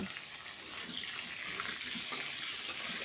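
Cut potatoes frying in hot oil for a fish curry, giving a continuous, broad sizzling hiss that stays close and even throughout, with no talking.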